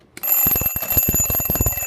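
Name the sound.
loud alarm clock ringing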